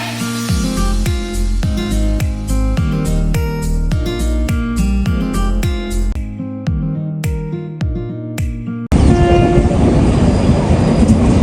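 A Gorakhpur–Sabarmati Express train rolls past with loud rhythmic clacking of wheels over rail joints, steady and close, then a louder broadband rush of noise.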